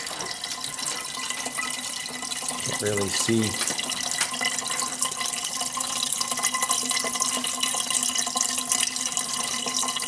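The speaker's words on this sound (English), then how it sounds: "I got the water flowing, as you can hear." Small DC pumps push water through reservoirs in an electric BMW 320i conversion, giving a steady close trickling, gurgling flow throughout, with someone speaking briefly partway through.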